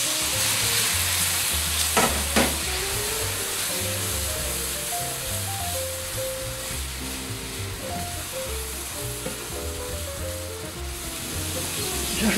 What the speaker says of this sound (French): J'ajoute un petit peu de vin blanc pour déglacer les sucres.